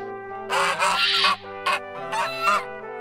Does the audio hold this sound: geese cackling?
yes